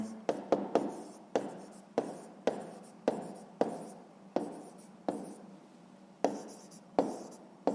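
A pen writes an answer to a sixth-grade math equation on paper, close up: a string of short, sharp scratching strokes with brief pauses between them, quiet and alone with no voices.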